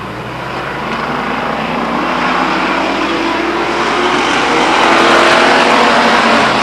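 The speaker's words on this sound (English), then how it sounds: "Joey Stearns and Chad Holman race around this circle track like it's a drag strip." Race cars roaring around the Stockton 99 Speedway oval circle track, a loud continuous engine drone that swells steadily as the pack passes close by, with no voices.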